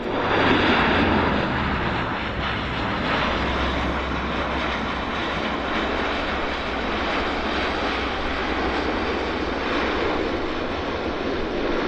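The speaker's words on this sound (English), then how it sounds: "we got a Q400 landing" Dash 8 Q400 turboprop airliner landing at Vancouver Airport, a broad continuous engine roar heard from a distance, steady and full throughout with a slightly louder start.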